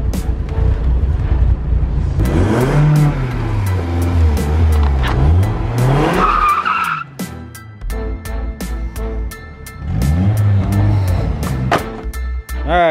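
A BMW E36 car engine idles loudly nearby with the check engine light on, revving up and down in uneven surges with a few clicks and clunks in between.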